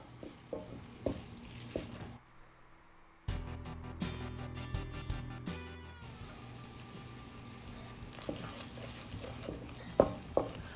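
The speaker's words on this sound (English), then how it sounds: "I'll also stir till everything is well mixed." Tomato paste stirred and frying with ginger and garlic paste in a pot for Togolese gari jollof, soft scraping stir strokes and low sizzling, with a brief quiet gap and a stretch of clattering midway.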